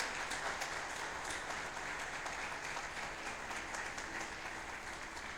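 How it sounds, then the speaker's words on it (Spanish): A church congregation gives a strong round of applause for the King of Glory, producing dense, steady clapping that carries on throughout at moderate distance without a break. "Dale un fuerte aplauso al Rey de Gloria."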